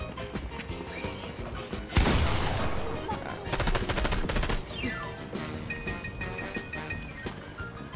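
Gunfire in Fortnite, a sharp burst of loud shots around the middle followed by a rapid string of repeated reports, set among busy game effects and background sounds.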